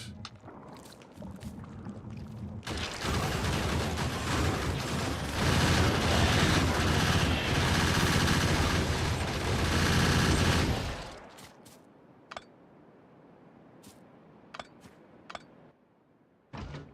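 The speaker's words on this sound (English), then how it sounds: "I gotta get more gun turrets here." Gun turrets in a video game blast out a sustained, loud barrage of rapid fire for several seconds, then fall back to sparse, sharp isolated shots over a quiet background.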